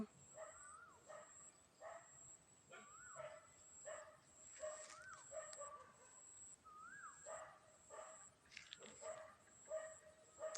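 A dog barks repeatedly in short, evenly spaced yips and barks at a distance, faint against quiet outdoor ambience, with occasional whimpering tones.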